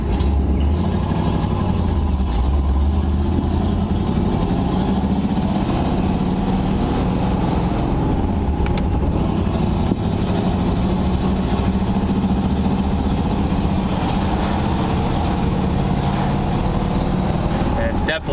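A 1940 Ford Tudor engine idles steadily after carburetor and exhaust repairs, a low, continuous rumble close by for the whole stretch, with faint ticks on top.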